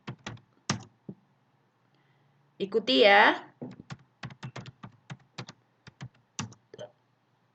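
A teacher types on a computer keyboard while giving a physical-fitness lesson. Scattered close keystrokes tap in bursts around a short spoken phrase.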